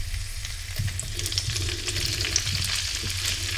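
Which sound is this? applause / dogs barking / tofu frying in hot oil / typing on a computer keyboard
tofu frying in hot oil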